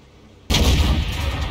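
A single heavy cannon blast from a Leopard Prototyp A tank in a video game, erupting loud and close after near silence and rolling on as a sustained booming roar.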